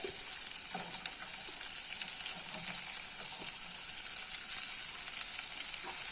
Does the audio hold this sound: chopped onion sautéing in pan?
yes